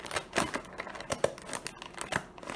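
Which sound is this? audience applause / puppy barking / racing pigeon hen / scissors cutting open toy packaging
scissors cutting open toy packaging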